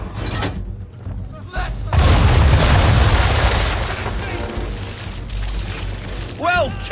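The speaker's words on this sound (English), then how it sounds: "Bring around broadside, and when all guns are on target, call fire." Ship cannons fire a broadside in the Assassin's Creed III naval game, a heavy booming roar that swells and rumbles for several seconds, with game voices speaking over and around it.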